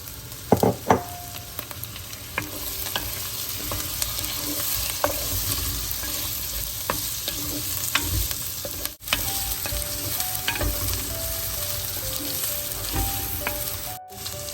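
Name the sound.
sautéing drumsticks with red onion and chillies in a pan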